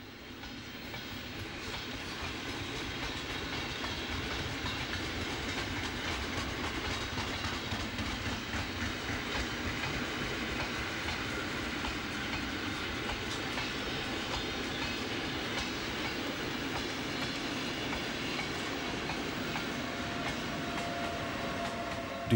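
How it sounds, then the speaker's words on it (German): A long, heavy freight train rumbles steadily past with continuous clattering wheels and low mechanical drone, loud and sustained throughout, with a Taurus locomotive at the rear helping it start. "Der Zug ist so lang und schwer, dass am Schluss der Taurus beim Anfahren helfen muss."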